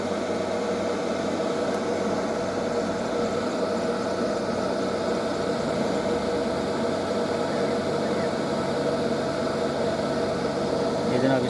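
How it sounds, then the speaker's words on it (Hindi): A solar inverter drives a motor on a solar trolley, producing a steady, even electrical hum and whine that holds constant throughout, moderately close with no breaks. "ये जनाब इन्वर्टर अभी आपके सामने चला रहे हैं।"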